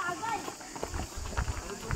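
Horse hooves clip-clop on a road at Matheran, a few uneven steps passing close under loud, continuous talk from several people.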